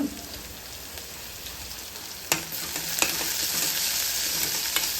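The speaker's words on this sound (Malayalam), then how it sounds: "ഇപ്പം ചെറിയുള്ളി ഏകദേശം മൂത്ത് വരുന്ന സമയത്ത് കുറച്ച് കറിവേപ്പില കൂടെ ചേർത്ത് കൊടുത്തിട്ടുണ്ട്. എന്നിട്ട് അത് നന്നായിട്ടൊന്ന് മിക്സ് ആക്കുക." Shallots and curry leaves fry in hot oil in a pan with a constant crackling sizzle. A spoon stirs and scrapes, giving a sharp clack and a few lighter taps, and the sizzle grows louder partway through. No one talks.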